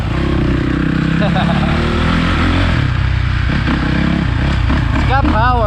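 A 2013 Suzuki RMZ450 dirt bike engine roaring steadily while being ridden, loud and close with rising revs, under the rider's voice and wind noise.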